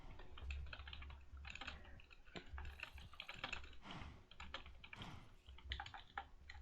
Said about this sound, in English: Can't type on this little keyboard. I hate this keyboard.